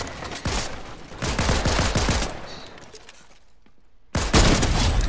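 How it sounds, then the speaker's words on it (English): Gunfire in the video game Fortnite, including shotgun blasts, comes as loud sharp cracks and a rapid volley of shots, followed by a quieter stretch and then a fresh burst of noisy action near the end. "What did you even hit me with? A shotgun?"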